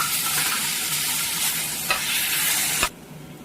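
Onions and tomato fry in a pan on the stove, a steady dense sizzle with stirring scrapes, close and loud, ending abruptly near the close.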